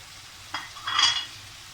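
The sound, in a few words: fried lobsters added to masala and stirred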